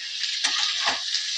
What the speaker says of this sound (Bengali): হালকা লাল করে একটু ভেজে নেব আলুগুলোকে